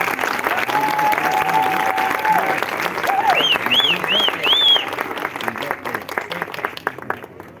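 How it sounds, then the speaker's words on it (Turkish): Guests applaud the bride at a wedding ceremony, a sustained crowd clapping with a few voices and whistles mixed in, tapering slightly toward the end. "kocaman bir alkış istiyorum"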